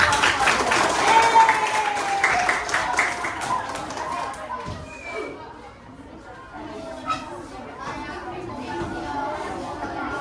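Classroom applause during a lesson on computational thinking and algorithms, a burst of clapping that is strongest early and then thins out while voices chatter.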